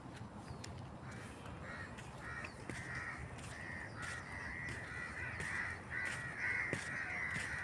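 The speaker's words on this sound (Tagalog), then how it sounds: "Ito mga ibon, no?" Crows caw repeatedly at an outdoor stadium, harsh calls coming in overlapping bursts from a flock at moderate distance over steady open-air background noise.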